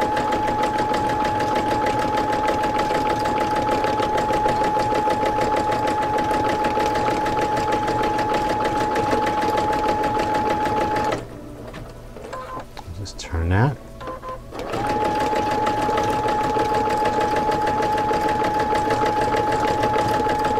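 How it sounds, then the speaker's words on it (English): A sewing machine doing free motion embroidery hums with a steady, rapid stitching drone, stops briefly for a few seconds of quieter handling noise, then starts again at the same fast pace. "with traditional free motion embroidery, you're really going to sew fast and move the fabric, move the hoop slow"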